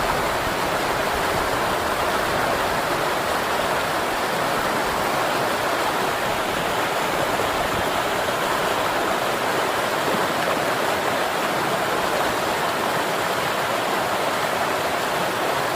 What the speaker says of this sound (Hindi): मंदाकिनी नदी की कलकल बहती धारा